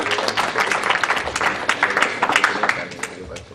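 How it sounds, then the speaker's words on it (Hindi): Sharp, irregular hand claps from an audience at a Hindi Gita discourse gathering, with voices talking over the clapping throughout. "पुनः इनके लिए जोरदार तालियां बजाइए"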